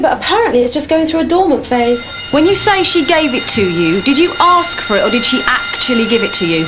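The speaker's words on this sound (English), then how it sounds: "I think that's the fire alarm." An office fire alarm rings as a steady high electronic tone running beneath close conversation, with people talking over it the whole time.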